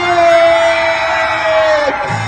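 A crowd at a Turkish Republic Day centennial celebration erupts in loud screams and cheers right after a countdown, a dense sustained roar of voices lasting about two seconds before cutting off.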